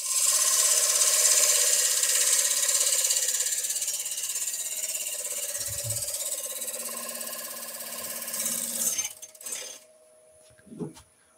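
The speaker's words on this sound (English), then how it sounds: "Let me just try and use another part of the gouge to straighten up that cut." A wood-turning gouge cuts a spinning wooden cheese platter on a lathe, a steady loud close whirring scrape that holds for about nine seconds before it stops, followed by a few faint knocks.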